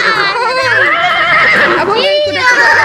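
A horse neighs and whinnies in long, wavering calls at a kuda lumping performance, loud and close, repeating across the moment with a short break in between.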